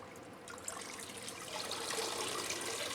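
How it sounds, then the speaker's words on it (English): Water running and trickling through a hanging orchid pot in a greenhouse, a steady close splash and drip that grows slightly fuller toward the end, with no voices. "we'll just get it watered, show you how quick the water runs through"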